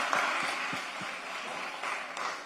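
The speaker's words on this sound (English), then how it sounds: "a big round of applause" Applause from a public commission meeting audience as the GSA Fleet Service Department is honored: a soft, steady wash of distant clapping that holds for a couple of seconds, faint throughout.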